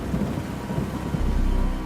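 Heavy rain pours during a storm while thunder rumbles, a dense, loud, continuous roar with the low rumble swelling toward the end.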